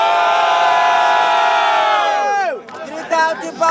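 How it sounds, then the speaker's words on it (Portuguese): A crowd at a student rap battle in Guarulhos, São Paulo cheers and shouts loudly and steadily, then breaks into scattered whoops and yells as the roar fades. "muito barulho pra essa batalha!"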